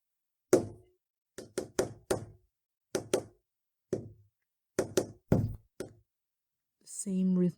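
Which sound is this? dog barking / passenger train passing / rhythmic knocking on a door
rhythmic knocking on a door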